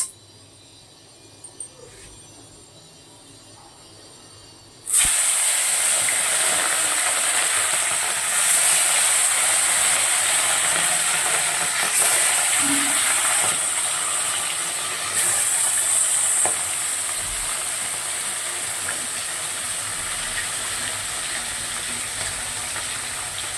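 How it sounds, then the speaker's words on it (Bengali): Bata fish frying lightly in hot oil in a kadai, quiet at first, then a sudden loud, hissing sizzle as the fish goes in, settling into steady close frying. "মাছটা একটু হালকা করেই ভাজবো, খুব বেশি ভাজবো না।"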